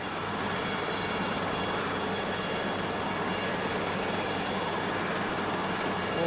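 A Lama helicopter in a flight simulator, flying over North West Ireland, gives a steady, loud, unbroken drone of engine whine and rotor wash with no letup and no talking.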